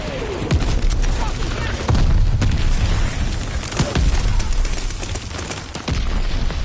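Rapid bursts of gunfire and booming shots from the PS4 zombie shooter VG Zombies crackle continuously at high loudness, with louder blasts recurring every second or two.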